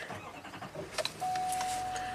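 A 2013 GMC Sierra 2500HD with a Duramax diesel engine cranks and catches at close range, settling into a steady idle after a brief start, with no talk over it.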